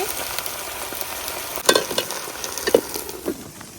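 Bottle gourd leaves hiss and sizzle in a hot pan, a steady frying crackle with a few louder spatters and stirring clatters, close and without talk.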